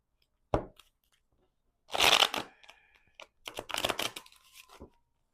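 Tarot cards being shuffled by hand in three bursts: a short riffle, then a longer rustling flurry, then a final run of crisp card flicks, close and fairly quiet with no talking.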